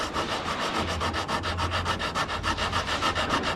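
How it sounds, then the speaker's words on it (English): A hard sanding block works over a paint run in quick, even back-and-forth strokes, a rhythmic dry rasp repeating about five times a second, close and steady with no voices. "If you notice, it's only sanding the run. That's why I got a really hard block."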